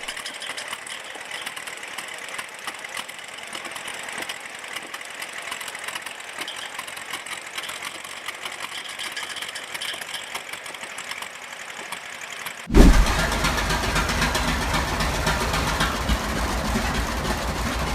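A steady mechanical drone and rapid ticking from a roughly 100-year-old vintage engine running. It cuts abruptly to a much louder, denser roar partway through, with no voices.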